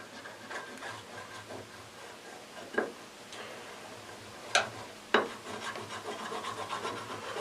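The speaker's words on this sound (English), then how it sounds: "I'm going to run through and I'm going to wax this thing" Wax puck rubbed onto a wooden shooting board: faint, soft scratchy rubbing strokes with a few sharper knocks, quiet and close against a low background hum.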